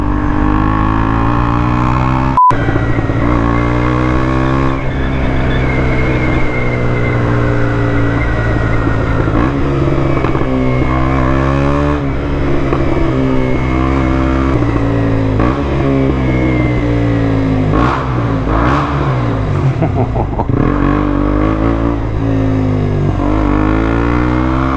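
BMW GS motorcycle with an exhaust baffle fitted, engine loud and close with rising and falling revs as it pulls through a roundabout, a sharp, raspy tone throughout.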